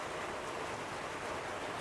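Steady rainstorm pouring down outdoors, a dense, even hiss of falling rain that fills the whole stretch without letup, with no talk over it.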